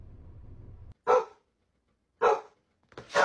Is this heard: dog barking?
yes